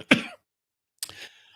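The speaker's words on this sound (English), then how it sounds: "I'm going to start coughing again here." A person gives a short throat-clearing cough, then a second rougher cough about a second later, close and fairly loud with silence between.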